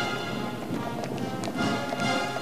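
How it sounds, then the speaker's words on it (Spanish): Horses' hooves clip-clop on pavement during the mounted changing of the guard by the Mariscal Domingo Nieto Regiment at the Government Palace, steady overlapping clops from several animals over a constant outdoor background, with no talking. "Tradicional cambio de guardia a caballo,"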